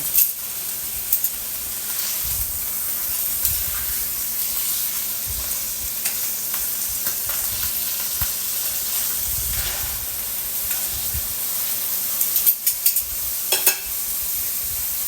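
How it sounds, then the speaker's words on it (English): Meat searing in a hot pan, a continuous loud sizzle and hiss with occasional scraping and a few sharp knocks of utensils near the end. "So we'll go on and get it good and seared"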